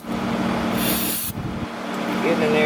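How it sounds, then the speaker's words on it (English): Cleaner sprayed onto the front brakes of a 2019 Kia Forte, one burst of aerosol hiss lasting about half a second over a low background hum. "give them a good spray down"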